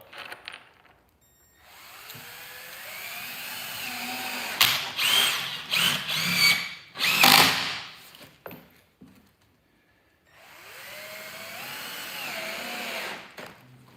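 A brand-new Milwaukee M12 cordless drill whirs in bursts, rising and falling in pitch, with a cluster of short revs in the middle and quiet gaps between runs.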